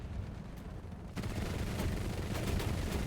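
Gunfire in a battle game with an American 8.7 lineup, a dense burst of rapid shots and rumbling impacts building after a short lull, loud and sustained with no talk.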